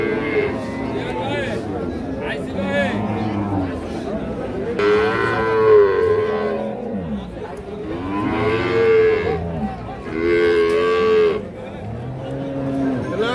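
A young Holstein Friesian dairy cow at a cattle market moos loudly several times, long drawn-out lows rising over a steady crowd murmur as people talk nearby.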